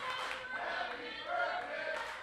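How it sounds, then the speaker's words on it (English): Crowd at a women's wrestling match cheering and calling out in celebration of Brooke Valentine's birthday, a steady dense roar of many voices with a swell near the middle. "The crowd giving a little bit of birthday love to our girl."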